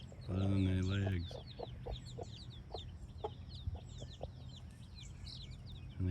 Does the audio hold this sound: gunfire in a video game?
no